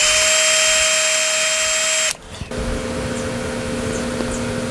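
A power drill whines steadily at high speed drilling holes in a Flying V guitar kit's pickup surrounds, stops abruptly, then starts again with a lower, rougher grinding tone, close and loud.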